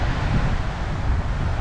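Strong wind buffets the microphone at an outdoor fishing spot during a fishing competition, a steady loud rumbling roar with no talking.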